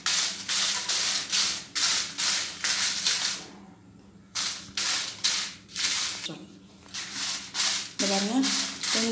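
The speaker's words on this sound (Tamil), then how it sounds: "சூடானோடனே ஒரு 50 மிளகாய் போட்டு நல்லா வதக்கணும்" About fifty dry red chillies are stirred and lightly roasted in a pan, giving repeated rhythmic scraping and rustling strokes close by, each lasting about half a second, with a brief pause in the middle.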